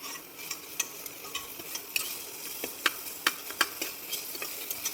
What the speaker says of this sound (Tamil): வெங்காயம் அதையும் போட்டுக்கணும். போட்டுட்டு நல்லா வறுக்கணும்